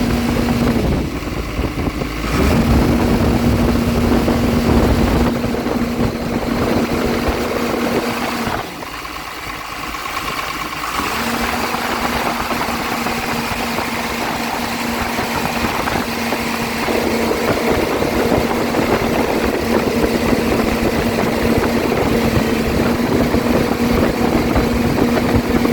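An excavator diesel engine with an injector fault runs steadily for a long stretch, idling with a constant low hum and drone, loud and close, with a brief dip partway through.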